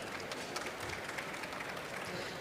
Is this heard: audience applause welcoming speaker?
yes